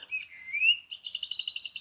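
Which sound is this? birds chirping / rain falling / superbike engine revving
birds chirping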